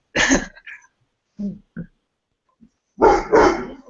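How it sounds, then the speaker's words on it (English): A dog barks a few times, a single bark and short yips, then two loud barks close together, with silence in between. "You're just going to hear the dog barking at people walking past."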